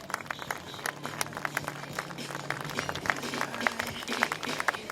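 A crowd applauding steadily, a dense patter of clapping over a low background hum, moderately loud and continuous throughout.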